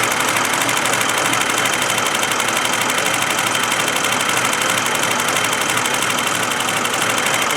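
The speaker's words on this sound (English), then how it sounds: "here's that M30 engine, working very beautifully, I might add." A 1982 BMW 633CSi's M30 engine runs steadily at idle, close and loud, with a constant even mechanical hum and no talk over it, after a new fuel regulator was fitted.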